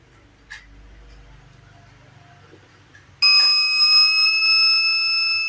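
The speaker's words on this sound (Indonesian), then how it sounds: "Delay off menggunakan speaker buzzer ini" A quiet room with a couple of faint clicks, then a loud, continuous high-pitched tone from a buzzer in a delay-off circuit starts abruptly and keeps sounding.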